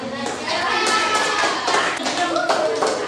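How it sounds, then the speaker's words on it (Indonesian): Pupils in a classroom lesson clap for a classmate, producing a brisk patter of hand claps mixed with children's voices talking over it, close and lively. "tepuk tangan buat Kak"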